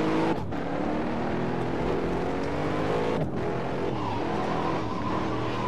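A Mercedes-Benz SLS gullwing is driven hard in the Assetto Corsa racing game on PC, its engine roaring loudly and continuously with brief tire noise and no voices.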